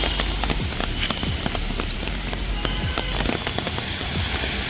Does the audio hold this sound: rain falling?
yes